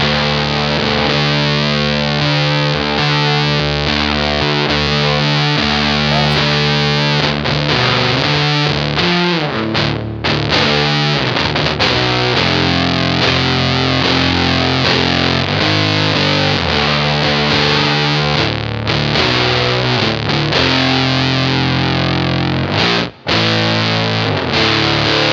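Fuzz-driven electric guitar through an EarthQuaker Devices Aurelius chorus pedal at a slow rate, giving a thick doubled shimmer. Dense, continuous and loud, with chords ringing out and no voices.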